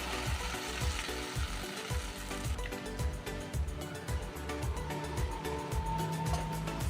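A spice paste simmers in a potato and ridge gourd curry, a faint bubbling sizzle running steadily under strong background music throughout.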